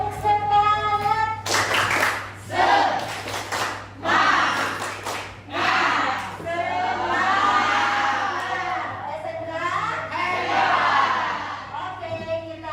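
A class group in Indonesia does a rhythmic spirit clap: bursts of patterned hand claps mixed with children shouting and cheering, loud and close, followed by a long wash of crowd noise.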